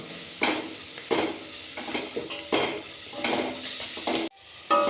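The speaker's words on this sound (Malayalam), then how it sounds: "മസാലയും കൂടി ചേർത്ത് കഴിഞ്ഞതിന് ശേഷം നന്നായിട്ടൊന്ന് ഇതിൻ്റെ പച്ചമണം മാറുന്നവരെ നന്നായിട്ടൊന്ന് ഇതാ ഇതുപോലെ വഴറ്റിയെടുക്കണം" Masala being stirred and sautéed in a pan for green peas curry, a spatula scraping in repeated sweeps about once a second over a soft sizzle, close up, with no talk.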